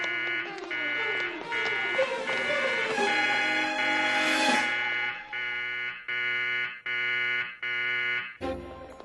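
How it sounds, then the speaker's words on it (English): An alarm buzzer sounds loudly and steadily in a sci-fi setting, first over a busy mix of effects and then as repeated pulsing blasts that cut off abruptly near the end. "Just hit the alarm."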